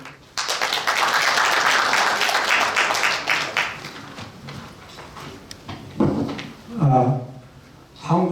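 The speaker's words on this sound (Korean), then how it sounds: "박수, 큰 박수 부탁드리겠습니다" Audience applause at a citizens' forum lecture hall event, sustained clapping for several seconds that fades, followed by a speaker's voice over a microphone.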